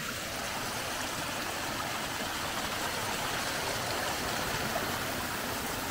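Stream water rushes steadily beside the Appalachian Trail near Rock Gap, a continuous broadband flow that holds even and fairly close throughout, with no voices over it.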